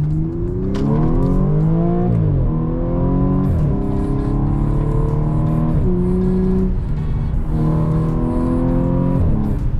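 A powerful supercharged Audi S5 Cabriolet engine revs hard through several gears, each rising pitch sweep cut by a shift, loud and close without any voices.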